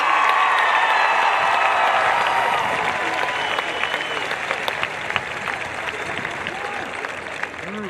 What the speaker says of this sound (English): Let's give the class of 2022 a great big round of applause